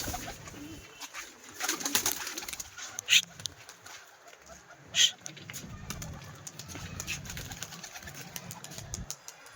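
A male pigeon with clipped wings coos in low, soft bursts at close range, with a few sharper chirps in between and voices talking nearby throughout.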